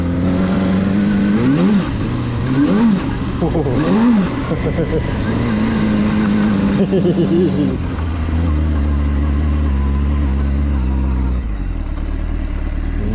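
A Suzuki GSR600 motorcycle ridden on a mountain road, its engine loud and close with rising and falling revs and gear changes, then settling to a steadier drone, while a rider talks over it.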